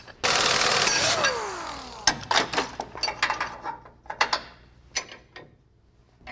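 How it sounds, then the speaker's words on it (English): A ball joint press works on an A-arm bushing of a Chevy Colorado: a loud sustained mechanical whir with a falling pitch sweep, then a series of sharp clanks, ratcheting clicks and metallic knocks at close range. "To make this happen, we use this ball joint press."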